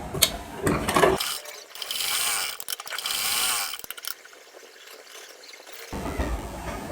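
A sewing machine stitches a princess-cut blouse sleeve. Close mechanical whirring and ratcheting come in two sustained runs, framed by clattering handling noises and a quieter stretch.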